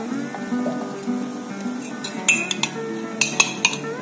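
Fried okra, lightly browned, being scooped from a pan into a bowl, with scattered metallic clinks and scrapes of a utensil against cookware, sharper and louder toward the end over a steady kitchen background.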